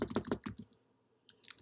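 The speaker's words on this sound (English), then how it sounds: "I can go here and I can keep typing" Computer keyboard typing, a quick burst of several close clicky keystrokes, a short pause, then another brief run of taps.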